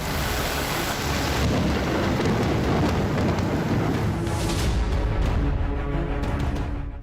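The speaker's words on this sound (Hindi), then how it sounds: "मुंबई में मूसलाधार बरसात शुरू हो चुकी है।" Heavy monsoon downpour in Mumbai with rolling thunder, a loud, continuous roar of rain and deep rumbling that swells and fades over several seconds, with no voices.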